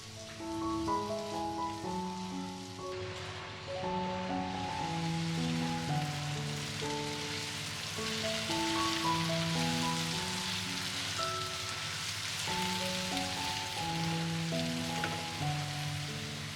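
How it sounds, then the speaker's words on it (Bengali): Potatoes fry in a pan with papaya, giving a steady soft sizzle and patter like light rain under a continuous melodic music bed, with no talking. "আলুটা দিয়েও 2-3 মিনিট ভেজে নেব।"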